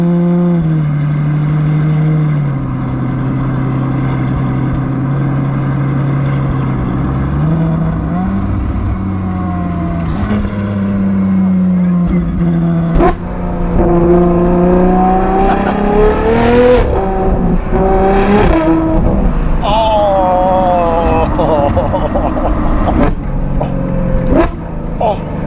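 Novitec-tuned Ferrari 812 GTS V12 with a seven-speed dual-clutch gearbox accelerating hard, a loud rising engine howl through several gear shifts with sharp crackles, heard close.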